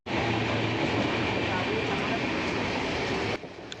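Interior of the Sealdah Puri Duronto Express train, a loud steady rumble of the moving coach with faint clatter that drops off slightly near the end.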